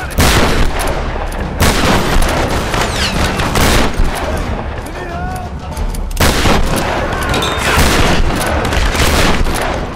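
Dense volleys of gunfire and blasts from pistol, machine gun, bow and shotgun combat in the Tomb Raider video game, loud and continuous over a layered battle soundscape with heavy bursts recurring throughout.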